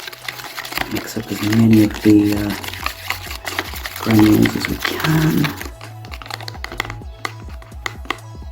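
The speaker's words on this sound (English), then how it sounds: "Give this a good stir." A spoon scrapes and clinks steadily while stirring sugar granules into cold water in a bowl, a continuous rough swirling under a person speaking.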